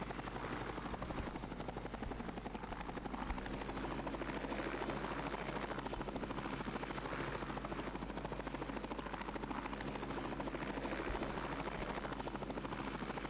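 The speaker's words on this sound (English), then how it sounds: "Well, this is a fancy helicopter." A helicopter in the online game Planet Cyrene flies with a steady, rapid rotor chop that drones on evenly for the whole stretch, with no talking over it.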